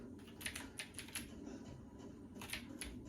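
Rapid bursts of keystrokes on a keyboard used with a mouse to play Minecraft on an Xbox One S, close and fairly quiet, in short irregular clusters with no talking.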